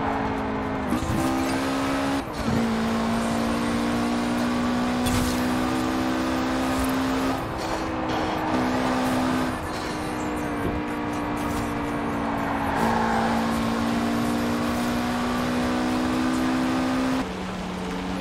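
A Mitsubishi car in the racing game Forza Horizon 4, its engine droning loudly and continuously with shifting revs, a supercharger whine and brief gear changes, with no talking.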